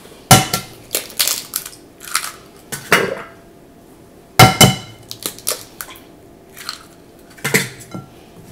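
Egg cracked and worked into a fish ball mixture for Moroccan fish balls, heard as a run of sharp cracking, tapping and squelching clatters against a bowl, irregular and close, with no talk.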